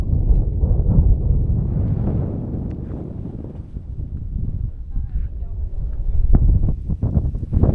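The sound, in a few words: strong wind on a mountain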